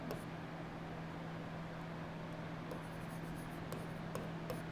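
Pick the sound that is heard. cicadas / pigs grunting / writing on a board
writing on a board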